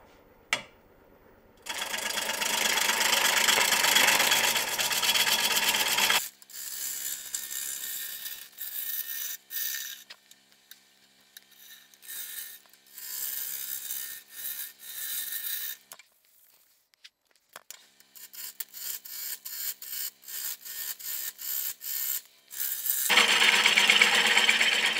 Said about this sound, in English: It's 500 RPM.